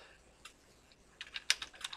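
Keys clatter on a computer keyboard: a few isolated taps, then a quick burst of close, crisp clicks in the second half, with no voices.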